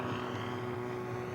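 A scale model aircraft circling in to land, a steady droning engine tone at moderate distance that holds evenly for a brief stretch with no voices over it.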